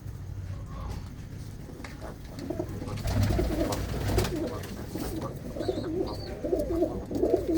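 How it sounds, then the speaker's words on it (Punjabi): Pigeons coo softly in low, rolling phrases, repeating several times and growing a little louder toward the end. "ਇਹ ਜਿਹੜੇ ਹੈਗੇ ਵਿੱਚ ਬੱਚੇ ਆ ਤੇ ਵਿੱਚ ਵੱਡੇ ਕਬੂਤਰ ਆ"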